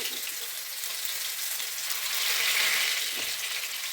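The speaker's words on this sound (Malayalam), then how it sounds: "നമുക്ക് ഓരോ ചിക്കൻ പീസ് ഇതിലോട്ട് പരക്കിയിട്ട് ഫ്രൈ ചെയ്തെടുക്കാമേ" Chicken pieces fry in hot oil, a dense, even sizzle close by that swells slightly midway and holds steady with no voices.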